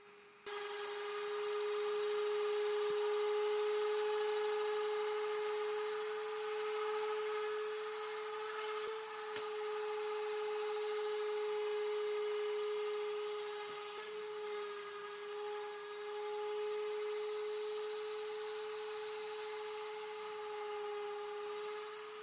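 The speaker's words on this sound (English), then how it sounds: "Next, I used an orbital sander." An orbital sander runs steadily against a mid-century modern wooden bookcase for a long stretch, a loud, constant motor whine with a gritty rasping hiss that shifts slightly as it moves.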